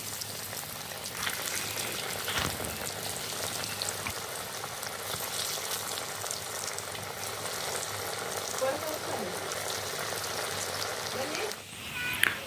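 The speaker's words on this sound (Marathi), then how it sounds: "वड्या तळण्यासाठी मी इथे कढईमध्ये तेल गरम केलेलं आहे आता आपण याच्यात वड्या टाकूया" Coriander vadi fry in hot oil in a kadhai, a steady close sizzle and crackle running throughout with a brief clatter near the end.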